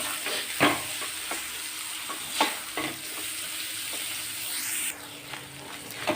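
Chopped radish pieces and radish leaves sizzle in a hot pan as they are stirred, giving steady frying hiss with a few sharp scraping strokes, up close and without any voices.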